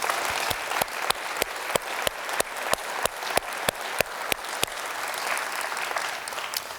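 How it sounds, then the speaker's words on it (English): A crowd applauds at a city State of the City address in Duluth, broad clapping running throughout, punctuated by a string of sharp, evenly spaced loud claps near the microphone. "please join me in a round of applause"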